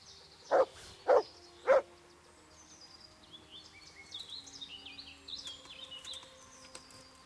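Three sharp dog barks from a mutt in Kingdom Come Deliverance, evenly spaced and fairly close, followed by faint chirping birds or insects in the background.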